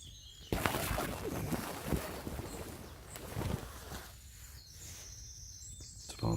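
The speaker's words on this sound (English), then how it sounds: "The forest is alive, the birds are alive" Birdsong in a forest at dawn, faint and distant with thin calls, set against a steady wash of rustling and outdoor background noise.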